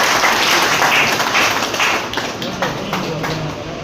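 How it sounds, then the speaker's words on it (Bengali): Applause rises from an audience at a marketing management gathering in Baliadanga, Malda district, a steady dense patter of clapping with some talk mixed in. "জোরে হাততালি হোক।"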